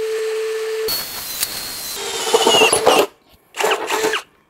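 A DongCheng DCJZ2040i13 brushless cordless impact drill drills into metal at speed setting 1, giving a loud whirring motor whine that runs steadily, then stops and restarts in a second short burst.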